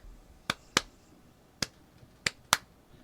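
Five sharp finger snaps, close and crisp, set out a loose, uneven rhythm that imitates the New Day wrestling beat. Faint room quiet sits between them and nobody speaks.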